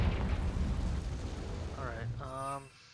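A Confringo spell bursts in the Hogwarts Legacy video game near an Acromantula cave, a loud, rumbling explosive blast that slowly fades, with a short voice heard near the end.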